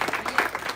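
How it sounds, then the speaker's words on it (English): A crowd at a graduation ceremony gives a round of applause, a short burst of dense clapping close by. "So let us give one big round of applause to all the spouses, all the officers, and everybody."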